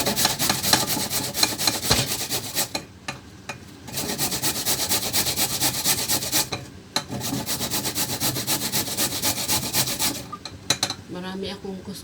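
Carrots rubbed hard against a hand grater in a home kitchen, a steady scraping rasp in long continuous runs with brief pauses, close and fairly loud, no voices.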